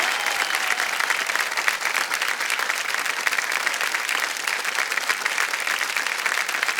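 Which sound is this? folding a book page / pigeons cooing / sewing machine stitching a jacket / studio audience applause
studio audience applause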